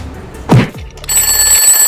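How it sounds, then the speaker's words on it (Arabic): An alarm clock set for 4 a.m. rings out loud and close, a sharp bright tone sustaining steadily after a brief thump, with no voices. "ظبطت المنبه الساعة 4 الفجر."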